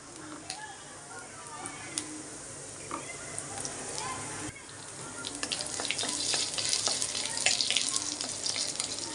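Curry leaves, green chilli and ginger saute in a pan for a vegetable stew. A voice talks early on, then the sizzling and crackling grow louder and denser in the second half.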